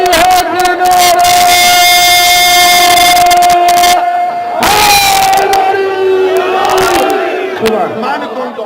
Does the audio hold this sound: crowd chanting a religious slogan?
yes